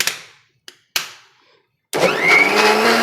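A blender whirs loudly and steadily, crushing ice cream for a fruit punch, after a few short clunks and knocks; no one speaks.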